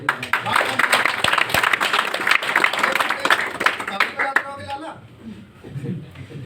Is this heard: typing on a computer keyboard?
no